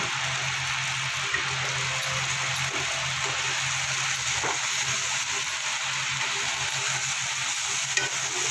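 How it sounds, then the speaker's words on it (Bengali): Ground spices with turmeric, salt and Kashmiri chili powder sizzle steadily in a pan for a cauliflower masala while being stirred, a continuous broad frying hiss with soft scraping throughout and no talking. "মশলাটা যাতে ফুলে না যায় কিছুক্ষণ নাড়িয়ে নিলাম"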